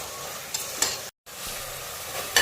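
Masala for biryani sautéing in a pan, a steady sizzling fry with a few sharper stirring scrapes, alone and close, with a brief cut to silence midway.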